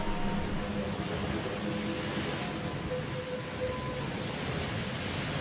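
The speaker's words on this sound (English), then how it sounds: "I think that's the waves." Ocean waves in a flood survival video game, a steady broad wash of surf noise that stays faint and even throughout, with no clear individual wave crashes.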